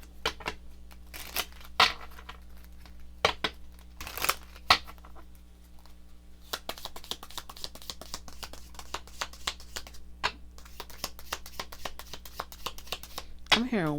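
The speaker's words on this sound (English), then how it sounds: "So I'm going to pull a couple cards." Tarot cards being shuffled by hand during a card reading, with clustered riffling snaps and soft rustles in irregular bursts, close and fairly loud, interrupted by a few sharp slaps as the deck is handled.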